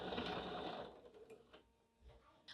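A sewing machine backstitches the seam of a messenger handbag, a short mechanical whir that slows and stops, followed by a couple of faint clicks.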